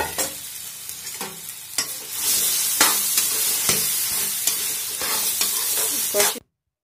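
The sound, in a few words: dal paste being fried in a pan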